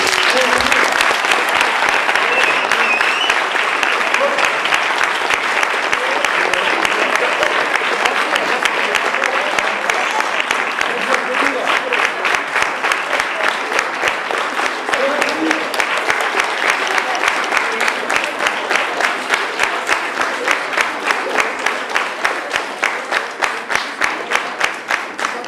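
Sustained audience applause after a school poetry performance, dense and steady clapping from a room of students that runs continuously and gradually thins into more distinct individual claps toward the end.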